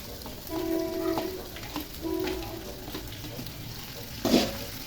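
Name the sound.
frying cardamom and whole spices in oil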